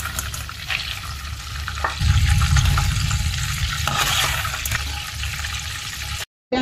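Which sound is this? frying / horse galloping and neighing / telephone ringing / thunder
frying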